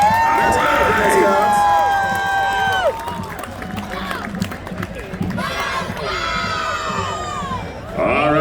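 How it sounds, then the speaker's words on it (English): Crowd at a Fremont, California Fourth of July parade cheering and shouting loudly, with children's high-pitched yells and whoops rising and falling throughout, sustained and close. "Please give them a big round of applause and make some noise"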